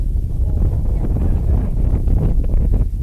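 Heavy, steady wind buffets the microphone, a loud low rumbling roar with gusty fluctuations throughout and no voices.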